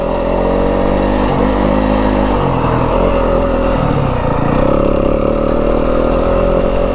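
Yamaha WR250F dirt bike climbing a rocky Arizona desert trail, its engine droning loud and close with small shifts in pitch as the throttle changes, plus rattles and knocks over rough ground.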